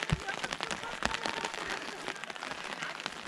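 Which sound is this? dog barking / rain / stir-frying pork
rain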